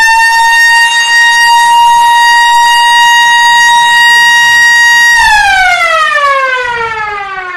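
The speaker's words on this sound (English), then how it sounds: "And here comes the siren." A loud, steady siren wail at a baseball game holds one pitch after a home run, then slides downward as it winds down, with no voices.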